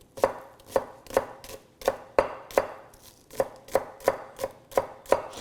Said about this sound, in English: we'll take some green onions here, and they'll just add a little more flavor. We're just going to mince them up real nice